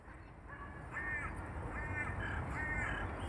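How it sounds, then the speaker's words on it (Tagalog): A crow in a London park gives several harsh caws in short bursts, moderately close, over steady outdoor background noise. "Lapitan natin itong uwak"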